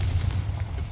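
The Confringo blasting spell goes off in Hogwarts Legacy with a brief, booming, explosive burst and a rumbling low end, loud and close.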